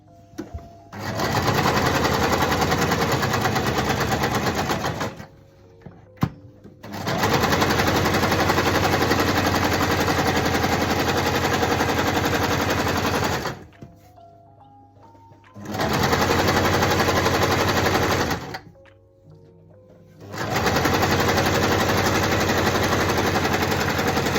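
A sewing machine runs a straight stitch along a knotted fabric headband in four long, loud bursts of rapid mechanical whirring, separated by brief quiet pauses.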